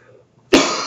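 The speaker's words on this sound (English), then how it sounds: "Actually, let me go ahead and cough." A single sharp cough from a person with a sore throat bursts out loud and close after a near-silent moment, trailing into a short breathy tail.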